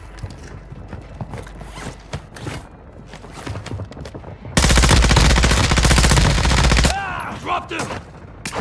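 Gunfire during a player-versus-player shootout on Ashika Island in a video game: scattered shots and clatter give way to a loud, sustained automatic burst lasting a couple of seconds, then sparser shots afterward.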